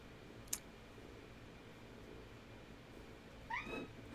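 A cat gives one short, faint meow near the end against a quiet room hiss, after a brief click.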